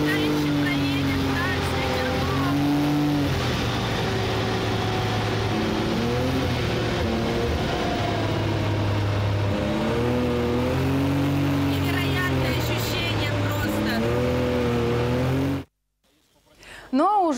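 Race cars drive past at a motor race, their steady engine drone rising and falling in pitch as they accelerate, loud and continuous, cutting off abruptly near the end.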